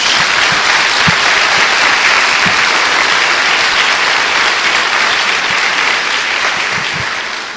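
A church congregation claps in loud, dense, sustained applause that fills the room, with a few sharper individual claps standing out and the sound tapering slightly at the end.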